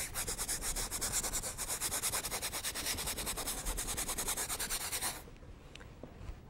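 A paintbrush scrubs paint onto canvas in fast, steady back-and-forth rubbing strokes, close and continuous for about five seconds before stopping abruptly, leaving near silence.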